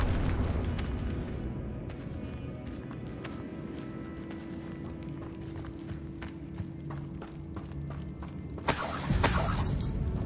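A Confringo blast spell explodes in Hogwarts Legacy, with a sharp shattering burst late on over a steady background of game rumble and scattered clatter.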